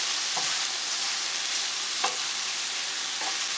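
Mushrooms sautéing in olive oil, butter and garlic for a bacon mushroom soup, a constant bright hiss of frying with a few light stirring taps spaced apart, no talking.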